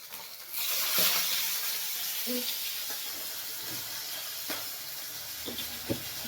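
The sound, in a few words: hot oil spattering while frying fish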